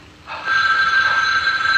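Telephone ringing in the horror video game The Evil Within 2, a steady electronic bell tone that starts abruptly and holds loud and close, with no talking.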